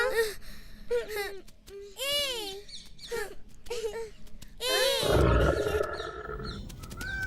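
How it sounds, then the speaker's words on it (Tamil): Several high, wavering cartoonish voices call out, then a loud, rumbling lion roar bursts in and carries on for about two seconds before fading. "சிங்கராஜா வேட்டையாடுறாரு."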